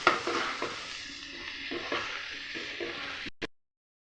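Onions frying in a pan while spices are stirred in for a Bengali prawn curry, a steady close sizzle with scraping stirs through the whole stretch, ending abruptly.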